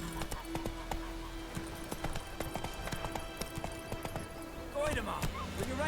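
A horse in The Witcher 3 video game clopping along in quick, steady hoofbeats, fairly near, with a short whinny-like burst and voices toward the end.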